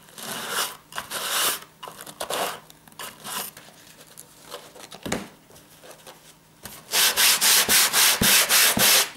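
Paper being smoothed down by hand onto a tissue box during marouflage, a dry rubbing and brushing that comes in uneven bursts, then turns into a fast, loud run of regular scrubbing strokes near the end.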